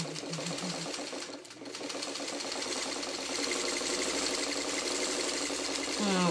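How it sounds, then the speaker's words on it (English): Domestic sewing machine stitching fabric along marked quilt-block lines, a close, fast rhythmic mechanical chatter running continuously, with a brief pause near the start and quiet background. "you're going to sew right on those lines"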